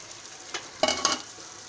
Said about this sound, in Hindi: अब मैं इसके अंदर गोभी डालूँगी।